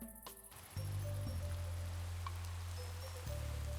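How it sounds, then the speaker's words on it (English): Rain falls in the Minecraft video game, a faint, steady hiss over a low background hum, continuous throughout with no voices. "Oh, it's raining again."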